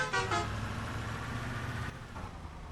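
A truck horn in an Indian truck simulator video game sounds in two quick blasts at the start over a steady engine rumble, followed by another faint toot.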